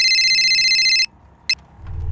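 A telephone rings with a bright electronic tone for about a second, then a short second burst follows before a low background rumble rises.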